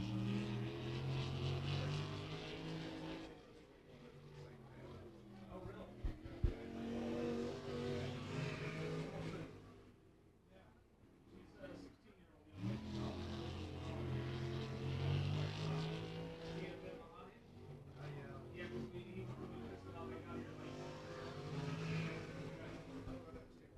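Race car, the 21J, running a qualifying lap at Beckley Motor Speedway, its engine drone rising and falling as it circles the track with a brief lull mid-lap, heard faintly and at a distance.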